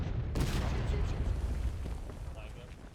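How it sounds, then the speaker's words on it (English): Artillery booms in the War of Rights video game at Burnside Bridge, a heavy blast early then a dense, continuous rumble of distant cannon fire filling the background. "See more artillery kind of harassing them as they come over the bridge"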